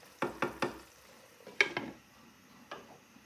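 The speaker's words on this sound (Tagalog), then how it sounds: "Haluin natin." A spoon clinks and scrapes in a pot of chicken tinola soup, a quick run of three taps, then a pause and a few more scattered knocks, fairly close with no talking.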